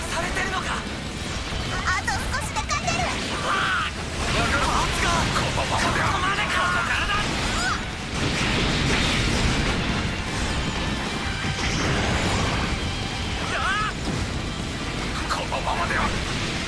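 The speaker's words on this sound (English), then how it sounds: "If I can get them in a group here, they're all getting satellite cannon." Repeated satellite cannon blasts and crashing impacts from Gundam Breaker 3 fill a dense, continuous wall of game noise with music, while someone talks over much of it.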